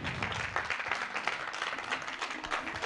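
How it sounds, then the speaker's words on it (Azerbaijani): Steady applause from a crowd, dense and continuous clapping throughout with no pauses. "bu alqışlar sənindir"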